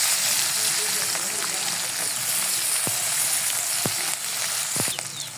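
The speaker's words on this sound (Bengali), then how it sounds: "দিয়ে দেবো কাঁচামরিচ, হালকা নেড়ে ছেড়ে এখন দিয়ে দেবো রসুন" Green chilies and garlic crackle in hot oil, a dense steady sizzle with a few sharp pops over about five seconds, close and fairly loud.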